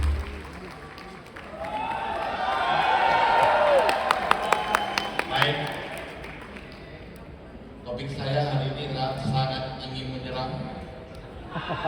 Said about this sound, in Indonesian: kita undang dengan tepuk tangan yang paling meriah tim Supreme Pegasus 3